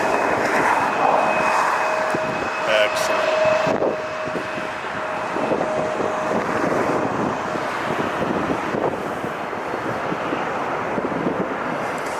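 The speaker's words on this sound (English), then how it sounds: "we have the United coming in, flight 1363 from Chicago, 777-200" A United Boeing 777-200 airliner, flight 1363 from Chicago, arriving at LAX roars loudly nearby, the engine whine fading into a broad rumbling wash mixed with wind buffeting on the microphone.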